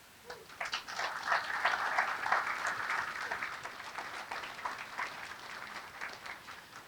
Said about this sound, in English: So please, sincerely give yourselves a tremendous round of applause